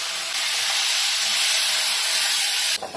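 Dark soy sauce hits a hot pan while soy chilli is cooked street-stall style, giving a loud, steady, steam-like sizzle that hisses continuously for nearly three seconds, then cuts off abruptly.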